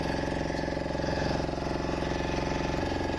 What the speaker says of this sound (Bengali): মাছ ধরার ট্রলার এগুলো সব